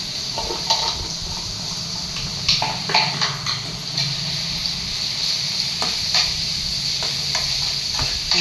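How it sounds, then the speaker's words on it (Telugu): A spoon stirs meal maker masala curry in a pan while it sizzles, with scraping strokes and faint clinks over a steady frying hiss, close and moderately loud. "మొత్తం ఇదంతా తిప్పుకోవాలి"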